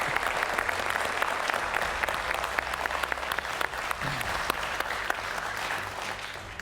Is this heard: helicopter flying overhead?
no